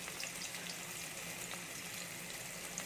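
Chopped onion and green chili fry in hot oil, making a steady, even sizzling hiss that runs the whole time without pause or voices.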